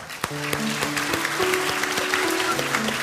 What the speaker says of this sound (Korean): 우리 앞으로 나오실 때 박수로 한번 크게 환영해 주시기 바랍니다.